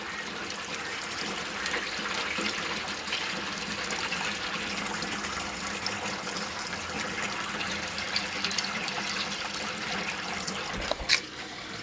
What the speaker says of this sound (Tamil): இப்போ தண்ணி பாய்ஞ்சிட்ருக்கு.